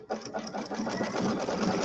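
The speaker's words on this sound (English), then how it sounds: "And then I'm going to sew number 13. And this is going to be our tack down stitch." Sewing machine running a long tack-down stitch on a Halloween settee pillow, a steady fast needle chatter with a slight rhythmic pulse, close and continuous with no talk.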